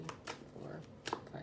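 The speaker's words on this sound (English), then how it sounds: "So all right, just go ahead and shuffle here." A tarot card deck being shuffled by hand, giving a few soft riffling bursts and light papery flicks close by, with low background noise and no clear speech.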